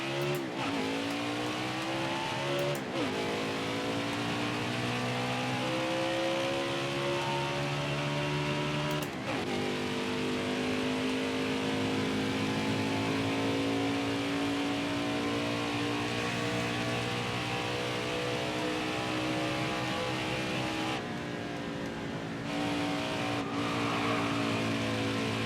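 Ford race car in the video game NASCAR Heat 4 on a qualifying lap at Homestead, its engine a loud, steady, high-pitched roar running the whole time with gear-shift dips early on and near the middle.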